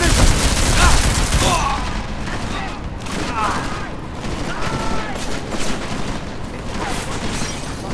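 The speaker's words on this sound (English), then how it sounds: "Stop, stop shooting at me." Bursts of gunfire rattle in Deus Ex: Mankind Divided, a dense volley at first giving way to scattered sharp shots, loud and close with a voice over them.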